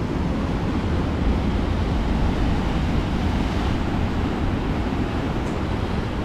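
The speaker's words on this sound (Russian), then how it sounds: "Смотрите, какая сильная идет." Continuous heavy roar of sea surf rolling onto the shore at the Olympic embankment in Adler, thick and loud, with gusty wind buffeting the microphone throughout.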